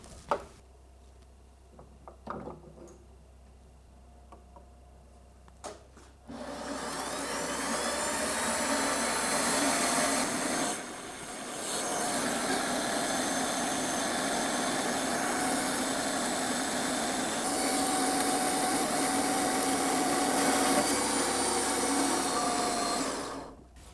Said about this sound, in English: So I'm just using the good old bandsaw to cut off this now.